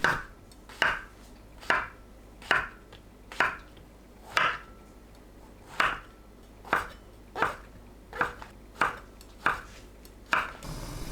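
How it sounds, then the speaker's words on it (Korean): A knife cuts king oyster mushrooms lengthwise on a cutting board, with about a dozen crisp, evenly spaced slicing thunks, one roughly every second. The thunks are close and distinct against a quiet kitchen background. "새송이버섯을 길게 썰어줍니다."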